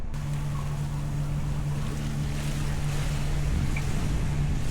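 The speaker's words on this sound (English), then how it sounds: "it's just a little bit faster for us to motor sail at this point" A sailboat motor-sails through waves off Catalina Island. A steady low engine hum is mixed with wind and rushing water, continuous and close.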